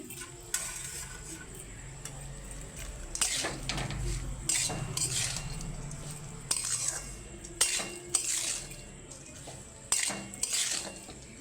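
Rice with raisins being stirred in a pan, a spoon scraping and clinking against the metal in irregular bursts over a low background hiss, close and moderately loud.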